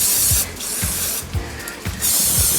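Cleaner sprayed into the body of a small engine carburetor to loosen a gummy slide area: loud hissing bursts up close, several short sprays separated by brief pauses.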